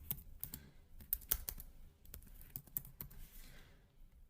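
Typing on a computer keyboard: close, quiet key clicks in an uneven rhythm, with a few louder taps among softer ones, and no talking.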